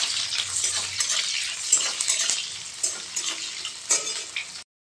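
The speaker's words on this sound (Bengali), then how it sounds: "তো কুচনো পেঁয়াজগুলোকে আমি এর মধ্যে দিয়ে দিই। এরপর ভালো করে একটু নাড়াচাড়া করে নেব।" Chopped onions sizzle steadily in a hot pan for aloo posto, with a broad hiss and repeated scraping stirs of a spatula, close and continuous, no talking.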